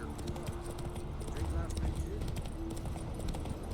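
Roach, the horse in The Witcher 3, trots along with steady, close clip-clop hoofbeats while someone talks over the footfalls.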